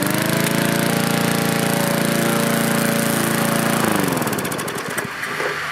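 Lawn mower running loud and steady, its engine drone holding constant before the pitch shifts and sputters near the end, with no voices.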